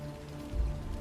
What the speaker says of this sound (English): I wonder what that rain tastes like.